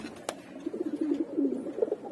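A single click is followed by soft repeated cooing from a nearby pigeon after its feathers were coloured with food dye; the sound is steady and fairly quiet, with no voices.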